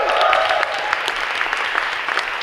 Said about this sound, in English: Which is worth applauding